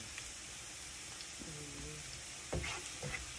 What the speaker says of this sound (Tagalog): pa-brown lang niya konti ang ating bawang